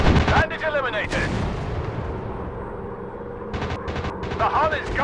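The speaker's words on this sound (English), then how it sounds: "Firing rocket" A warplane fires a rocket in a WW2 dogfight game, sharp loud bursts and rumbling blasts over a steady engine drone, with a voice calling out amid the action.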